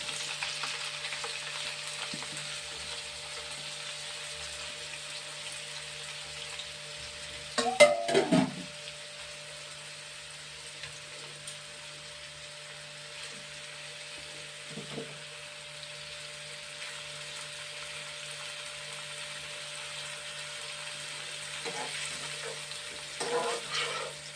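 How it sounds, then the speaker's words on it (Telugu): Oil heating in a pan before bitter gourd slices go in for a kakarakaya fry, giving a steady low frying hiss throughout with a few brief clatters of utensils, no voices. "నూనె కాగుతుందండి."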